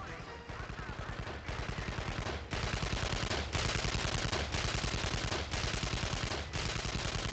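Rapid automatic turret gunfire from the video game Evil Genius, a steady loud stream of machine-gun bursts that restarts roughly every second for several seconds, with no talking.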